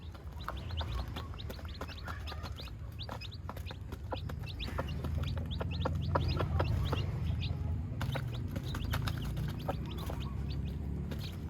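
Backyard chickens clucking and chattering at nesting baskets and perches in a rural province setting, many overlapping clucks and small calls, fairly close and steady.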